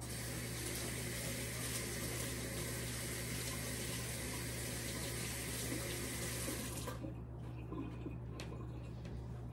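Kitchen tap water runs steadily into a sink while carrots are rinsed, a constant close rushing stream with faint clinks, then the flow cuts off and leaves a quiet room with a few small knocks.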